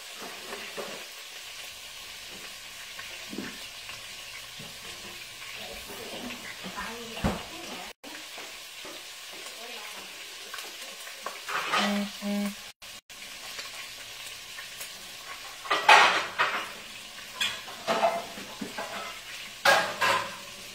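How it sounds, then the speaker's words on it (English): Leftover spaghetti reheats in a pan on a home stove, giving a steady soft sizzle with intermittent scraping and stirring clatter, plus occasional louder utensil knocks and a voice now and then. "We'll heat up some spaghetti. I like to heat up food on the stove."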